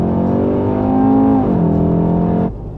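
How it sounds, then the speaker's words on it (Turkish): Volkswagen Golf engine held at high revs on launch control, a steady loud drone with a slight pitch drop midway, then a sudden fall in level near the end as the hold releases. "Abi bak bunda launch control var. Race'i alıyorsun, ESP'yi kapatıyorsun, frene basıyorsun, gaza tam basıyorsun,"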